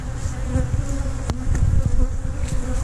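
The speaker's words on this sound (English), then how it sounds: "Yeah, just a few bees hanging out in there." Several honey bees buzz loudly around a hive box, their wingbeats fluctuating as they fly close by, with no talk.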